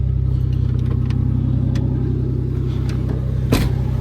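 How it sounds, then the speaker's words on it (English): An old GMC truck engine idles slightly high with a steady, even low rumble throughout and a brief click near the end. "However, it is idling a bit higher, which it may just need to be ran."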